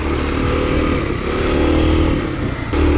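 A Kawasaki KLX dual-sport motorcycle on dual-sport tires riding single track with other dirt bikes, its engine droning loud and close in a steady, slightly rising note throughout.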